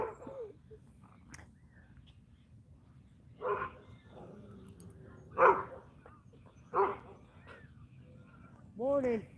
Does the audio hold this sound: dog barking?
yes